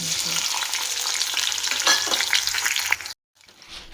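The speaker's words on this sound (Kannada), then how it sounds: "ಎಣ್ಣೆ ಕಾಯ್ತಾ ಇದೆ." Hot oil sizzles steadily in a frying pan on the stove, a dense close hiss that runs without a break for about three seconds, then cuts out abruptly to near silence before a faint hiss returns.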